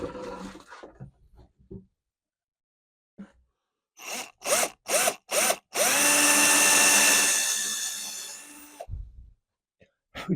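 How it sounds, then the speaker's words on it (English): A power drill boring fret marker holes into a guitar fretboard, starting with four short whirring bursts, then a longer sustained whine for about three seconds, close and loud, with a few breaths and small handling noises around it. "Here is my drill"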